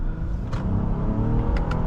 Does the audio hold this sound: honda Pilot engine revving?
yes